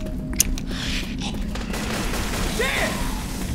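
Gunfire in the zombie shooter Left 4 Dead 2, with a sharp shot early on followed by ongoing weapon noise at moderate level, while players talk over it.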